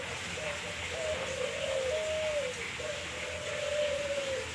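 A male dove in an aviary coos in soft, repeated low calls over a steady hiss of background noise, moderately close, with no talking.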